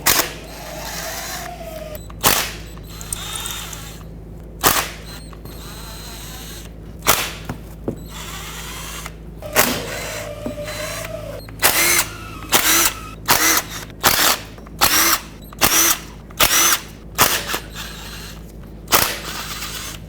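A power tool spins out the 10mm transmission oil pan bolts on a 2007-2010 Chrysler Sebring in short, separate bursts, the bursts coming closer together and more rhythmic toward the end, with faint mechanical clicks between them.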